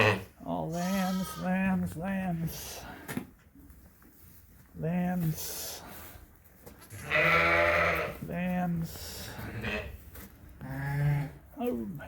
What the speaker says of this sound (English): Just had those two white lambs.